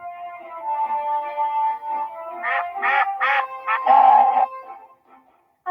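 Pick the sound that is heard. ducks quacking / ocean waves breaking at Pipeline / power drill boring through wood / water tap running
ducks quacking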